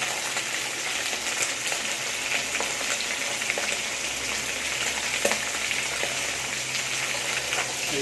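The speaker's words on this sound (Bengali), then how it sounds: "চলুক মাছ ভাজা।" A batch of fish keeps frying in a pan of oil, producing a steady, close sizzle dotted with small spits and pops, heard alone without voices.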